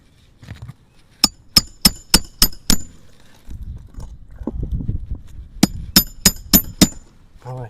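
Hammer blows driving a nail into a roof shingle: two sharp bursts of five or six evenly spaced, ringing strikes, separated by a stretch of low rustling handling noise, close and loud with no talk.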